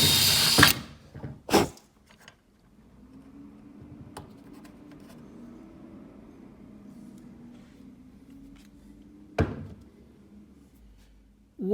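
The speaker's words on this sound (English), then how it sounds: "I'll start drilling my hole at an angle" A drill boring at an angle through the head of a rivet, a faint, steady low whir that lasts several seconds, with sharp knocks and clicks from handling the tool before and after.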